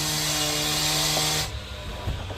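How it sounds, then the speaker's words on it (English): A power drill runs beneath a 2024 Mazda CX-90 while splash guards are installed: a steady motor whine that cuts off after about a second and a half, followed by faint clicks. "Now I'm going to take my drill."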